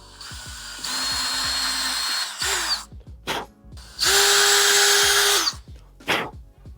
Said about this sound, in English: Just gonna hand drill these.